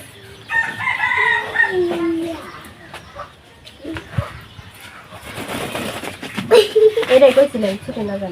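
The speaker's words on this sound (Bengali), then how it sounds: "আজকে আমি দেখুন এখানে নিয়েছি একটা দেশি মুরগি" A desi (country) chicken in a village home clucks and squawks loudly and close by, in repeated rising calls, while people talk over it.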